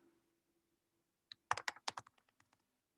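Quick taps on a computer keyboard while a word is typed into a lead-generation program, a short run of about a dozen crisp clicks that thin out and fade, close and quiet after near silence.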